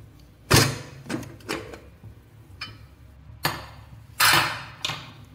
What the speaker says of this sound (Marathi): आता आपण कुकर उघडून घेणार आहे.